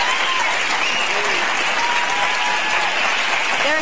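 A studio audience at a live morning talk show cheers and applauds loudly and steadily, a dense wash of clapping with scattered whoops that holds for the whole few seconds.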